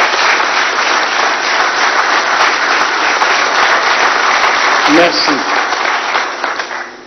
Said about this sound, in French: vous prie d'applaudir chaleureusement